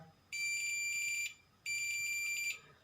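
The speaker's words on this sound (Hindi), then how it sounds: "जब इन्हें मैं शॉर्ट करूँगा तो जो आपका मल्टीमीटर है वो बज़र की आवाज़ देगा।" Two sustained electronic buzzer tones from a digital multimeter's continuity test with shorted probes, each about a second long with a short gap between, sounding thin and high-pitched over a quiet background.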